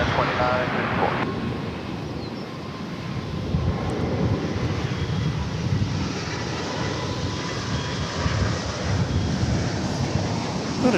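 A Boeing 777 comes in to land at DFW Airport, a steady broad jet roar that holds loud and even throughout, mixed with wind on the microphone, with no talk.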